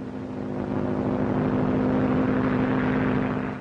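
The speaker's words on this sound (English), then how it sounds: "All ships give Bennett plane sitting down on Southfield preference" A propeller airplane coming in to land at an airfield in a 1937 film, a steady droning engine hum that swells and holds loud before easing slightly at the end.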